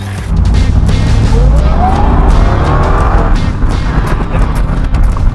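A supercharged 2002 Ford Lightning pickup with a 331 engine drives close by, loud and continuous, its tires squealing briefly as it moves.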